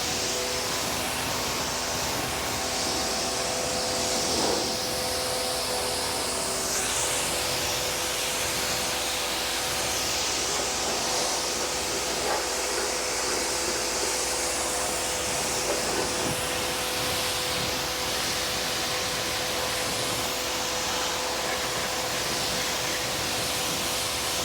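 Water spray rinses a car wheel during cleaning, a steady broadband hiss running unbroken and fairly loud from start to finish with no talk.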